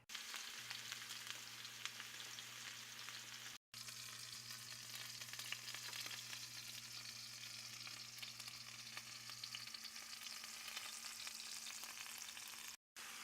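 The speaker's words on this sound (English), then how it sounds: "Sear them on both sides real quick." Garlic pork loin pieces searing quickly in a hot pan, a continuous soft crackling sizzle with a low steady hum beneath, broken by two brief cuts to silence.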